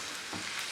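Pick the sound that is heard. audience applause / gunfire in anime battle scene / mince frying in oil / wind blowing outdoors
mince frying in oil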